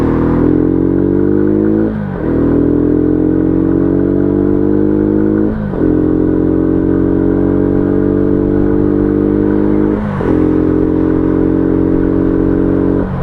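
A WK Maverick 125cc motorcycle with a 5-speed gearbox hums along steadily while being ridden, its engine note rising through each gear and then dipping briefly at three gear changes, loud and close with no talk.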